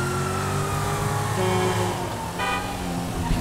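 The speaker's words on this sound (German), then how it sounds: "Ich kann auch hupen" A car horn honks steadily in GTA V over a car engine and traffic, with a brief shift partway through; no one talks.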